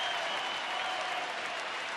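Big baseball stadium crowd applauding and cheering, a continuous wash of clapping and massed voices holding level throughout.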